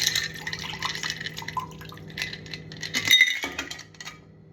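Liquid gazpacho cocktail poured back into a glass, a light trickling and dripping stream with small clinks of glass, close and fairly quiet, with no talking.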